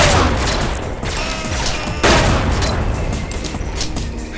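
Gunfire in Duke Nukem 3D blasting bottles, a dense run of loud overlapping shots and booming blasts with crashing impacts, steady throughout and sharpening into a heavier burst midway.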